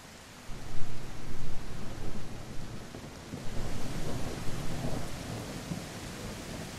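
Rain and rolling thunder in the survival game Mist Survival, a steady wash of rainfall under low rumbles that swell and fade over several seconds, with no talk.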